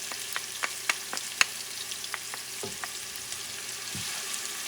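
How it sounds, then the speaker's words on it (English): Onion and garlic saute in a pan over medium heat for a green soup with collard greens and sausage, giving a steady close sizzle with scattered sharp pops and a couple of soft stirring scrapes. No voices. "sauteing this onion. Have a medium heat."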